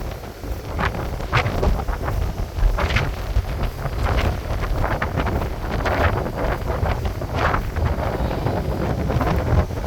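Strong gusty wind buffets the microphone in a steady, rumbling roar, with no voices heard.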